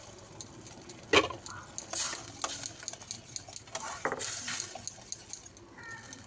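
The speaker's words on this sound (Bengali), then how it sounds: "ধীরে ধীরে জলটা দেবেন এবং মশলাটাকে ঠিক এইভাবে নাড়তে থাকবেন" Spice paste thinned with water is stirred in a pan: a sharp clink of the spoon early on, then steady scraping and soft wet sizzling strokes at close range, with no voices.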